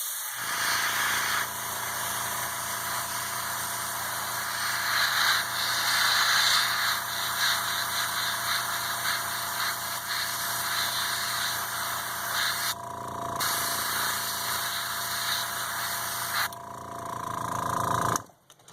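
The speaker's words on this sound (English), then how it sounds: "My airbrush is all set, and and now that I have it on there, I'm just going to go over real light." An airbrush sprays light coats of paint onto a Battlestar Galactica scale model, a steady, close hiss over a compressor hum that runs almost without a break, with two short dips and a sudden stop at the end.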